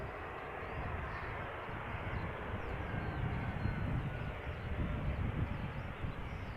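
A Cargolux Boeing 747 arriving at Amsterdam Schiphol produces a faint, distant, steady jet rumble with a gentle rise and fall, mixed with light wind noise.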